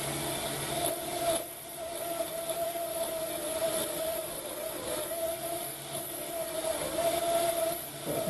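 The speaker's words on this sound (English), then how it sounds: "The 5mm drill." A 775 DC motor running at 15 volts drives a 5mm drill bit into a workpiece, giving a steady whirring grind with a faint tonal hum and slight rasping swells, close and fairly quiet.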